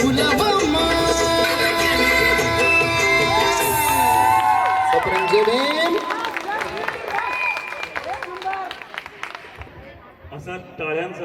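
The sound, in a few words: crowd applause and cheering after song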